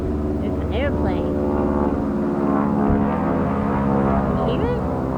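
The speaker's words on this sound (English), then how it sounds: "There's an airplane." An airplane passes overhead as a steady, low, droning rumble that fills the whole stretch at a moderate distance, with a few faint birdlike chirps above it.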